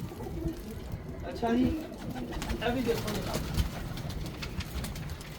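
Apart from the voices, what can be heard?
Ferozpuri pigeons cooing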